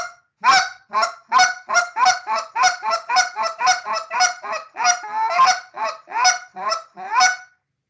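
Goose calls blown to imitate a flock of East Coast geese on the ground: a rapid, steady run of about twenty loud, close honks with no talking.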